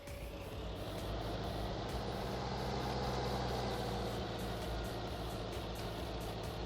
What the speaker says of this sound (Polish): Porównując do tego, jak on pod górę się męczy, ten ciągnik.